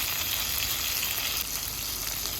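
Country beans frying in oil with mustard seeds, cumin and curry leaves, a loud, dense, continuous sizzle that holds steady close by without talk.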